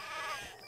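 A sheep bleats once in the video game Craft the World, a short wavering game sound effect heard fairly clearly on its own without talk.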